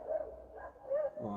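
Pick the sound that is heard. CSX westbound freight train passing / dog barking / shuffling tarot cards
dog barking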